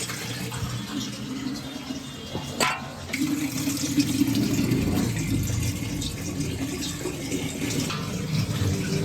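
Water pours and gushes steadily into a household tank, a continuous splashing fill that stays close and fairly loud throughout, with a sharp knock partway through.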